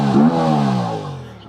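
An Aprilia RS 457 motorcycle engine blips through its exhaust, one short rev that rises sharply and then falls away, loud and close with nothing else over it.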